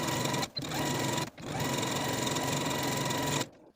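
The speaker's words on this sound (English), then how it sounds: "I'm going to sew my center front seam again with a 1/4 inch seam allowance" Sewing machine running steadily, stitching the center front seam of a maxi dress as a French seam with a quarter-inch allowance; a continuous close whir broken by two brief pauses, then stopping near the end.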